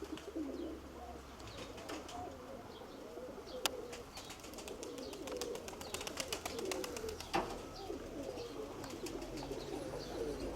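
Pigeons coo softly and repeatedly, low burbling calls mixed with faint chirps, scattered clicks and a brief flutter of wings nearby.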